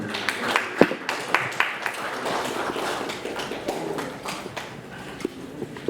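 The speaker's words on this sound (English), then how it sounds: "Please, a round of applause for him." A crowd claps in a sustained round of applause, dense irregular hand claps with a few sharper slaps standing out, at a Nigerian music legends night.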